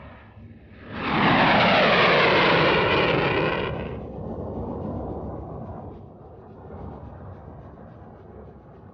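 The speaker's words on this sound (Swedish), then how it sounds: "I mörkret, på den hemliga flygbasen, görs nu de 4 Viggenplanen redo." Saab Viggen fighter jets at a secret air base at night, readying for flight: a loud broad jet engine roar swells in and holds for about three seconds, then drops to a lower continuing rumble.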